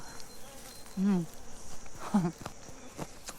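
Bees buzzing around acacia blossoms outdoors in spring, two short close buzzing passes against a quiet background.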